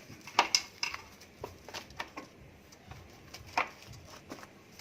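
Light clinks and taps of cutlery and a plate as a freshly cooked Amritsari aloo kulcha is set down, buttered and crushed, in a few scattered close knocks and scrapes.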